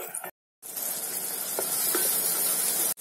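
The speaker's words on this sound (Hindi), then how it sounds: "मसाले को हम अच्छी तरह से भून लेंगे, जब तक कि हमारा तेल से मसाला अलग नहीं हो जाता" Masala with tomatoes and green chillies roasting in oil, a steady close sizzle with a few soft stirring scrapes after a brief silent gap at the start.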